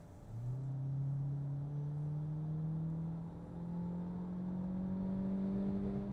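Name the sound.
Peugeot 3008 plug-in hybrid accelerating from 80 to 120 km/h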